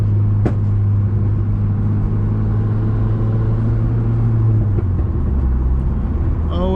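A tuned 2015 Subaru WRX with the FA20DIT turbo engine cruises along back roads, its steady low engine drone and road rumble heard from inside the cabin, easing slightly in pitch toward the end.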